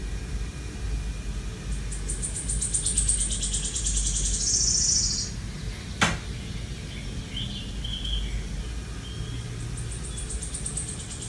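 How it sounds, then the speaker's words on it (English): Recorded birdsong loops softly in a Lush spa treatment room, high chirps and tweets over a steady hiss, with one sharp click partway through and the twittering fading back in near the end. "And the bird sound just loops while you're getting ready."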